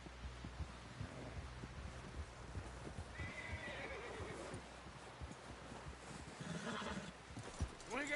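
In a video game, a horse whinnies and snorts while its hooves clip-clop on the ground, heard fairly faintly behind low rumbling game noise, with brief voices in the background.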